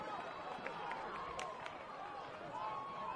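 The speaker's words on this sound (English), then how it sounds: "listen to the roar come from the grandstand" A stadium crowd roars from the grandstand at a night NPL men's football match between Sutherland Sharks and APIA Leichhardt, a steady wash of cheering and noise under commentary and running talk.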